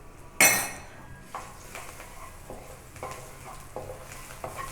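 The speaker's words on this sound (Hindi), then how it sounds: "अब मैं इसमें लहसुन ऐड करूँगी थोड़ा सा" Garlic hits hot oil in a pan for chicken feet soup with a sharp initial sizzle that fades into quieter frying, followed by soft scrapes and light clinks of a spoon stirring, close up with no talking.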